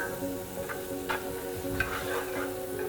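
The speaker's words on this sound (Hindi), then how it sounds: "ये जो इतनी खटर खटर में ऐसे ऐसे बारी बारी घुमा रहा हूँ" Onion fries over high heat on a hot tawa for egg bhurji, a close, steady sizzle broken by several sharp scraping and clattering turns of a spatula.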